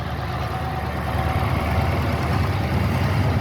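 A 1938 Massey Harris Pacemaker tractor engine runs steadily and loudly nearby, a dense low rumble that never lets up and has no talk over it.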